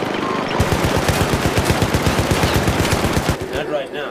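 Rapid automatic turret fire in the co-op shooter game Syndicate, a dense, steady stream of loud shots lasting several seconds before abruptly stopping, leaving a faint tail.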